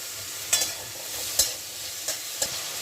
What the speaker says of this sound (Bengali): তেলের মধ্যে যে কাঁঠালের বিচি কাটা আমি একটু সিদ্ধ করে নেব